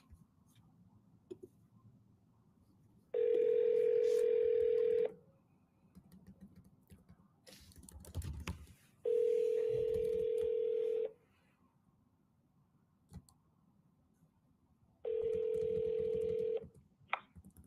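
Touch-tone telephone dialing for a cold call, three long steady tones spaced several seconds apart with faint handling noise and brief background sounds between them.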